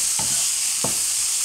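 Vegetables for shrimp pasta sautéing in a pan with a constant close sizzle and two brief spatula scrapes.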